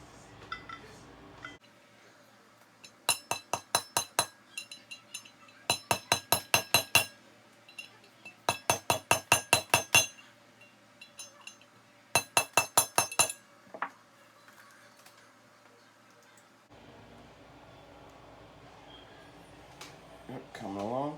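Metal tool tapping a pilot bearing into place, bright ringing strikes in four quick bursts of several blows each, close and crisp, with a voice speaking before and after.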